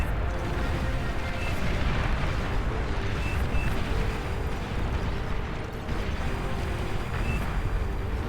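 Bombs exploding in the real-time strategy game Beyond All Reason, a sustained roar of overlapping blasts and rumble that fills the whole stretch without a break and carries no speech.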